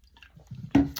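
A person drinks water at close range, with soft liquid gurgles and a louder swallowing gulp near the end, heard alone and brief.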